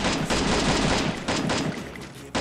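Rapid bursts of automatic gunfire in the Free Fire video game, several loud volleys separated by short gaps.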